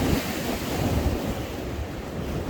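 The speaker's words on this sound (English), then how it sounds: "you will see the Irish Sea just now starting to climb these steps that lead to the promenade" Irish Sea waves wash against the promenade steps at Blackpool near the North Pier, a continuous rough surf wash mixed with gusty wind buffeting the microphone, with no voices.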